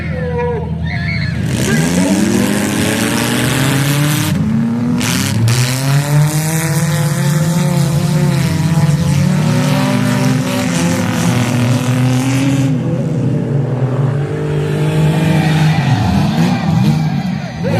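A demolition derby car engine revs and accelerates loudly and continuously at a Michigan derby, its rising and falling pitch dominating the scene with a voice briefly audible beneath it.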